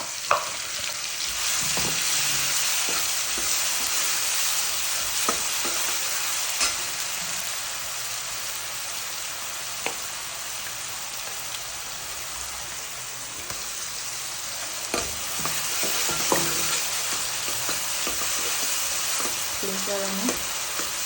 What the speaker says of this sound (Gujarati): હવે 2 ડુંગળી અને ટામેટું ચોપ કરી લીધું છે એડ કરી દઈશું.